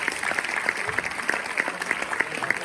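A theatre audience at an open stage session in Málaga applauds steadily, the clapping fairly close and even throughout.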